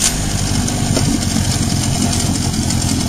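Yamaha outboard motor on a boat, started with a pull cord in neutral with the choke set and the water intake submerged, settling into a steady, continuous idle close by with no talk over it.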